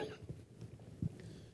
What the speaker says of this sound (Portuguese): eu tossi em português, tá?